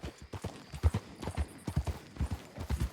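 Horse hooves clip-clop steadily on a road in Red Dead Redemption 2, a Missouri Foxtrotter ridden toward a stable, with close, irregular hoof beats and a brief whinny-like tone.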